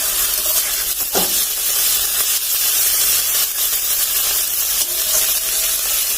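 Masala spices frying in a pan with onion and garlic while being stirred, a steady close hiss of sizzling oil with occasional scrape of the spoon, no voices.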